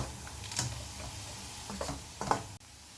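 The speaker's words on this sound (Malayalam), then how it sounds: "ഇതിൻ്റെ കൂടെ തന്നെ ഈ വെളുത്തുള്ളി ഇഞ്ചിയും ഫ്രൈ ആവും." Onion, garlic and ginger fry in a pan for a restaurant-style chilli chicken fry, a quiet steady sizzle broken by a few light stirring clicks and scrapes.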